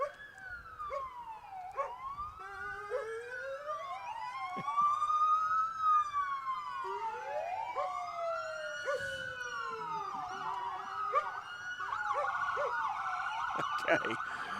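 Several police car sirens wail and yelp together in a small-town parade in Boise City, Oklahoma, overlapping rising and falling tones loud and fairly near, with faint background crowd and traffic noise.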